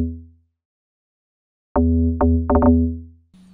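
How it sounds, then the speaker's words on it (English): A few deep, punchy hits from the stock log drum preset in FL Studio in a short syncopated Afrobeat pattern, resonant and bassy, with silence before them and a low tone trailing after. "what was used to play it was just the regular log drum in FL Studio"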